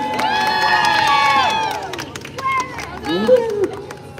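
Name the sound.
crowd cheering and applauding at Disney's Hollywood Studios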